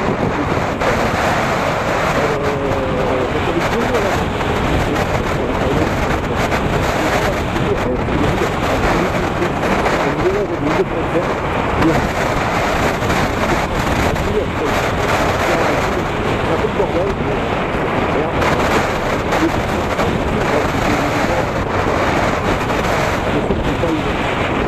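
Steady wind buffeting the microphone, a loud continuous rumble with surf-like wash throughout and no clear pauses.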